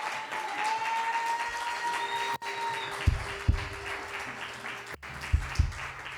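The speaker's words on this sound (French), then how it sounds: "Est-ce qu'on peut acclamer pour eux?" A church congregation applauds its worship team at a Father's Day service, a steady wash of many hands clapping that fills the room, with a few louder claps near the end.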